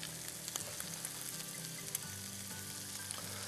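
Garlic dropped into a hot frying pan sizzles in a continuous, fairly quiet crackling hiss with a few light clicks from the pan, no voices.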